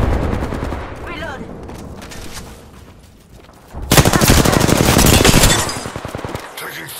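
Bursts of automatic gunfire in the Apex Legends battle royale game, a loud sustained volley in the second half after quieter game noise and shorter shots earlier.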